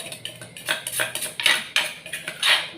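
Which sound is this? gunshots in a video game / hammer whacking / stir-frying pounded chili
stir-frying pounded chili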